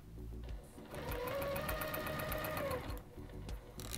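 A Juki TL-2010Q sewing machine stitches in one steady, rapid run of about two seconds, close up, followed by a few short mechanical bursts as the fabric is adjusted.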